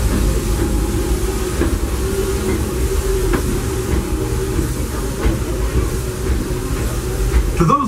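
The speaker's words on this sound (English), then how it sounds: "welcome aboard the Disneyland Railroad." The Disneyland Railroad train rolls along at a steady pace, a loud continuous low rumble with hiss and faint rhythmic clicks from the track, close up.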